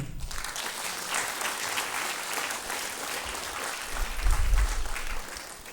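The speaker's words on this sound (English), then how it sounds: "Can we give an applause for him?" An audience at a postgraduate inauguration ceremony applauds a chief guest: a steady, dense wash of clapping that swells briefly near the end, with no talking over it.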